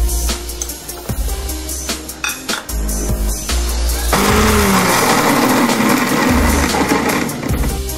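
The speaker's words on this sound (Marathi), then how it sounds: "त्यासाठी मी 3 मिरच्या, लसूण आणि जिरे मिक्सरमध्ये फिरवून घेणार आहे।" A kitchen mixer grinder blending three green chilies, garlic and cumin. Rattling clicks as the jar is set in place give way to a loud, steady motor whir that runs until the end.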